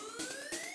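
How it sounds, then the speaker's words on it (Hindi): Ambulance siren in a scene from a Hindi-dubbed action film, a steady rising electronic tone with faint pulsing bursts, fairly quiet and heard alone. "एम्बुलेंस कहाँ से आ गया?"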